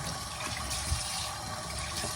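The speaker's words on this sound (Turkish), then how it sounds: "Evet arkadaşlar soğanlarımız hazır. Yıkayalım." Steady rush of running tap water as onions are washed in a kitchen, a continuous close splashing stream with no voices.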